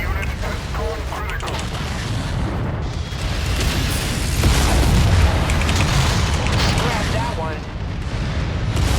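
Rockets and PPC fire in the MechWarrior 5 video game as an enemy mech is destroyed, a dense continuous roar of booming explosions and blasts swelling in the middle, heavy and close throughout.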